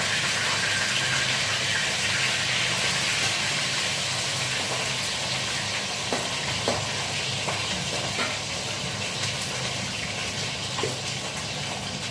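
Fish frying in hot oil in a home kitchen, a steady loud sizzle and crackle throughout with occasional stirring clinks, close and unbroken.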